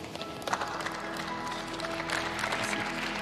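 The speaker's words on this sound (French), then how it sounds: "quand on se fait applaudir, ça fait plaisir" Studio audience applause for an amateur pastry contestant on a baking competition show: a steady wash of clapping from a room full of people, moderately loud and continuous throughout, with faint background voices mixed in.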